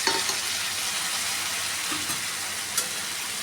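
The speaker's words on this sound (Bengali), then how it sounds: "সেই মশলাটাকে আমি দিয়ে দিচ্ছি। বাটিতে লেগে থাকা মশলাটা আমি আরেকটু জল দিয়ে দিলাম।" A paste of soaked cumin, chilli and turmeric sizzles with potatoes in a pan, producing a steady, loud broadband hiss with faint stirring scrapes and a couple of brief sputters.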